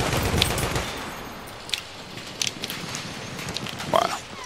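Gunfire in the video game Battlefield 1 crackles in short bursts of shots amid a rough, noisy battlefield din, with a few sharper cracks standing out near the end.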